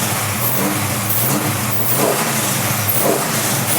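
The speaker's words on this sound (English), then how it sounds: "The engine's tight. There's no rattles, there's no clicks, there's no bangs, there's no pops." A Chevrolet Camaro engine fitted with Holley EFI Dominator fuel injection runs steadily up close, a smooth continuous idle with a couple of light throttle swells and no talk over it.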